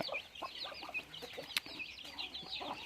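Chickens on a small farm that also keeps ducks and geese cluck close by in an irregular, overlapping chatter of short calls, with no voices.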